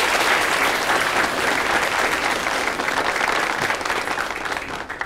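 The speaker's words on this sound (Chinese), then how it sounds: "鼓掌" Sustained applause from a seated audience welcoming a deputy county head at a village meeting, dense and steady clapping filling the room without pause, tapering slightly toward the end.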